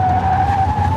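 A Mazda 6 brakes hard with ABS engaged, its tyres skidding and squealing in one steady, loud, sustained screech with a low rumble beneath, close by and with no talk.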